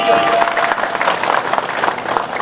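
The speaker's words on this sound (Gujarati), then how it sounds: "જોરદાર તાળીઓ." A crowd at a former students' reunion claps loudly as a guest is garlanded and honoured, the dense applause holding steady throughout with a faint voice beneath it.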